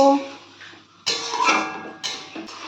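Doi chicken, a yogurt curry, is stirred and fried in a pan, with a few scraping clatters of utensil against metal coming in short bursts near the microphone, quiet between strokes.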